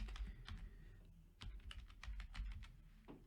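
Rapid, irregular keystrokes on a computer keyboard, close and fairly quiet, tapping steadily for a few seconds with brief pauses and no voices.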